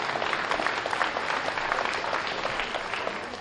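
A crowd applauds the winners at a swine show, a soft, even patter of many hands heard from a distance in a large hall.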